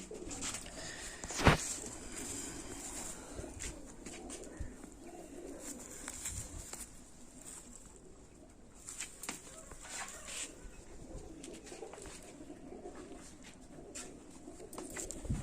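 Golden racing pigeon, a champion flyer, cooing softly in a loft with other birds murmuring around it and a brief sharp knock early on; the calls stay low and steady throughout.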